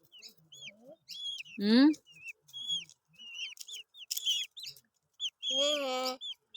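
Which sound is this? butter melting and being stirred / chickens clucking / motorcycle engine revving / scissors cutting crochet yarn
chickens clucking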